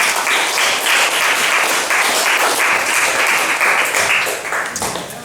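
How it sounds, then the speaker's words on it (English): Steady audience applause at a comedy improv gig in a pub venue, dense and loud clapping for about five seconds before easing off at the end. "please. Round of applause."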